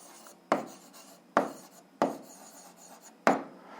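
Pen or chalk marking an answer for an algebra exercise, heard as four separate scratchy strokes roughly a second apart, each starting with a sharp onset and trailing off, fairly close with no talking.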